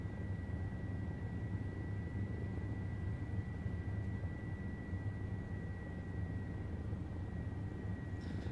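An OH-58D Kiowa helicopter in the flight game TacFlight drones steadily over Fort Campbell, Kentucky, a constant rotor and engine rumble with a faint high whine, unbroken and even throughout.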